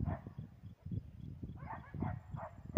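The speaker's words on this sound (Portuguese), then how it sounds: "cachorro do Reginaldo" Dogs bark repeatedly outdoors at night during a rural hunting outing, the yips and barks fairly distant and faint against a steady background of crackling noise.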